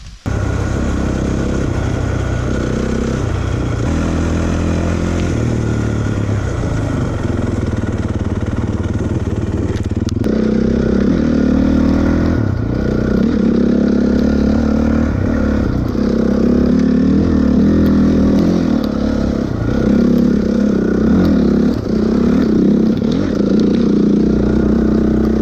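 A Honda 450 enduro dirt bike engine runs loud and close for the whole stretch, its revs rising and falling with a steady rough mechanical drone and no voices over it.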